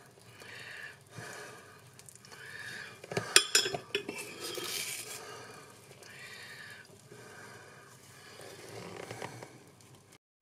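Clinks and scrapes of cutlery against a plate as hot baked figs topped with feta are lifted and set down, several short metallic taps and clatters close by, fairly quiet.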